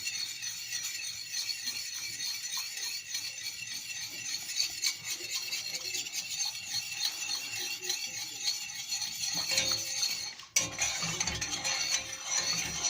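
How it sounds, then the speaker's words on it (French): A metal spoon scrapes and clinks steadily around a saucepan in a quick rhythm, stirring sugar to melt it, close up and quiet, with no talking. "on va touiller avec une cuillère jusqu'à ce que le sucre fonde"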